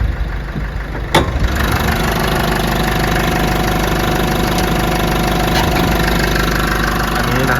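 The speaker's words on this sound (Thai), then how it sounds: "นี่สตาร์ทเครื่องไว้ด้วย" A 2016 Isuzu D-Max Hi-Lander 1.9Z Ddi Blue Power diesel engine idles steadily and fairly loud after a short knock, its low rumble holding even throughout with no talk.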